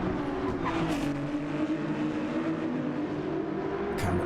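A Ferrari race car on the Nürburgring Nordschleife runs at speed, its engine giving a steady, loud, high drone with a brief rush of noise near the start and another at the end.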